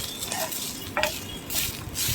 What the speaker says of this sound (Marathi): असा बघा आपला कसा कांदा होतोय, असा ब्राऊन कलरचा कांदा करा छान मस्त